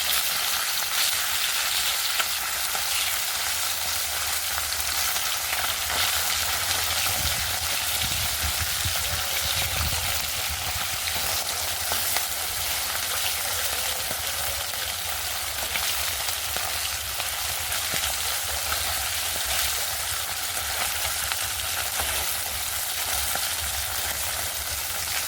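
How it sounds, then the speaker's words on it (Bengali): Fish frying in oil in a pan, a steady hiss and crackle that fills the whole stretch at an even level with no voices over it. "মাছগুলো এক পিট করে ভাজা হয়ে গেছে, এবার আরেক পিট ভাজার জন্য উল্টে দেবো।"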